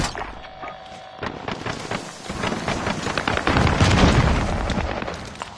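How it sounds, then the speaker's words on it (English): Booming explosions from enemy precision airstrikes in Warzone Resurgence night mode, a rolling cluster of heavy blasts and rumbling debris building toward a loud peak, then tailing off, with no talk. "Enemy precision airstrikes."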